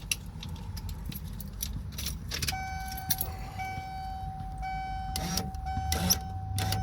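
Electric power window motor of a car spinning in a conversion setup, with a steady whine starting a few seconds in and running continuously at moderate level over faint background clatter.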